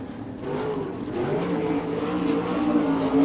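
A USAC sprint car with a Chevy engine and Stealth chassis on a qualifying lap at Rossburg, its engine droning steadily and building in loudness over a few seconds, heard from trackside without talk.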